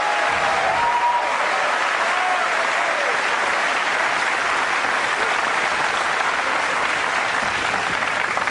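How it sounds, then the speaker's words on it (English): An audience applauds at a professional nine-ball pool match, a dense, steady wash of clapping that holds at full strength throughout with no talk on top. "the crowd is really loving this"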